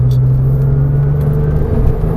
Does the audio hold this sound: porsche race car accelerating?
yes